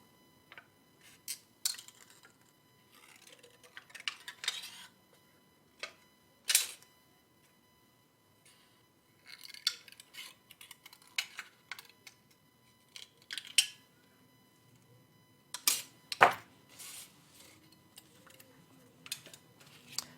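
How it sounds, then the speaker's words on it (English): Scissors snip through material in scattered bursts of crisp cutting clicks, close up, with quiet pauses between and no talking. "And it cuts really easily with scissors."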